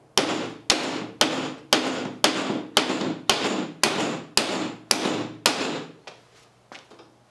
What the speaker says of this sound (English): let's try it with the regular hammer first